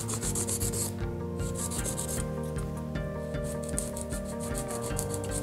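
A nail file rasps side to side across gel nail extensions in close, steady strokes, a quick repeating scratchy rubbing with short gaps between strokes.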